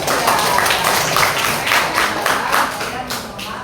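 A classroom of children claps for a classmate during a lesson on magnets, with loud, close, rapid clapping that keeps a steady rhythm throughout, and voices mixed in under it.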